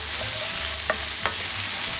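Green peppers and green onions stir-frying over medium heat for a miso stir-fry, a constant close hiss of frying with two soft clacks of a spatula against the pan.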